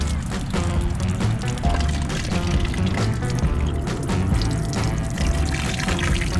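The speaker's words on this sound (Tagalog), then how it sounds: "uminom muna kami ng tubig sa may gripo." Water runs steadily from a faucet for drinking along a coastal road park, a continuous splashing pour over low background rumble.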